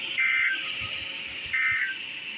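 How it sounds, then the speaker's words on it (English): A NOAA weather radio public warning alarm tone being tested sounds as a steady high electronic tone, heard in two brief brighter bursts over a constant background. "the National Weather Service has just activated the public warning alarm tone in the test of"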